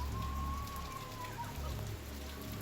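Steady rain falls with a continuous soft hiss, even and unbroken throughout, with no other distinct sounds standing out.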